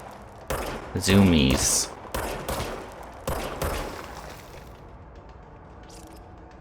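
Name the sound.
gunfire from the video game Control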